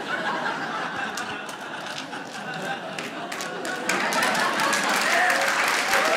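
Scattered clapping from a comedy show audience, a thin patter of hand claps that swells slightly toward the end, heard alongside light chuckles from the crowd.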